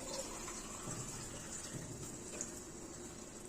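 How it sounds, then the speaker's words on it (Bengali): Water is poured into a pot of potato, soybean and pointed gourd curry, giving a faint, steady trickle and gush that stays low and continuous throughout. "এখন দিয়ে দিচ্ছি পরিমাণ মতো জল"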